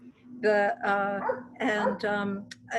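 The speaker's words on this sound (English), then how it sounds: "I apologize, that is not my dog." A dog barks and yips in a room during a conversation, giving several sharp, tonal barks in two clusters with whiny edges, fairly close and loud, while people talk around it.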